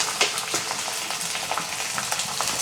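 Chopped onion frying in hot oil with garlic and sliced green chilli, a steady close sizzle with soft crackles and occasional stirring scrapes.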